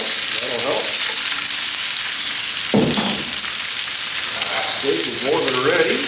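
Fajita vegetables fry in olive oil in a pan with a steady, loud sizzle that runs the whole time, broken by a brief sharp clatter near the middle and some faint voice-like tones.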